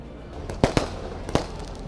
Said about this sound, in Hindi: यहाँ किस तरह से आतिशबाजी हो रही है आप देख सकते हैं।